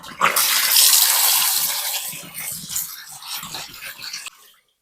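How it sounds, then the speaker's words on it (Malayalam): Cabbage soaked with salt and turmeric is washed in a vessel of water, with a loud rush of running water followed by softer sloshing and splashing that fades out at the end. "ഇനി നമുക്ക് ഈ കാബേജ് വൃത്തിക്ക് കഴുകി വൃത്തിയാക്കാം കേട്ടോ."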